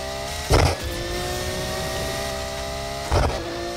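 Car engine droning steadily in the NFS Heat racing game, with a sustained whine from the transmission and two brief louder bursts of revving near the start and end.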